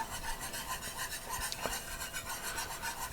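A whisk scrapes rhythmically through a flour and fat roux in a pan, producing a steady close-up rasping scratch with quick repeated strokes and a few small clinks; no talking.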